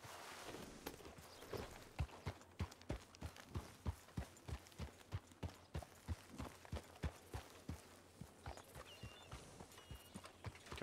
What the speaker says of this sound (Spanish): voy a ir a sacar el caballo